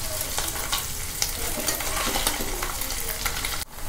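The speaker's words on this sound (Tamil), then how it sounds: "எண்ணெய் காஞ்ச உடனே நறுக்கி வச்ச பன்னீரை உள்ளே போட்டுக்கோங்க." Paneer cubes frying in hot oil over a slow flame, a dense steady sizzle with scattered crackles and occasional stirring, loud and close, ending in a brief dip.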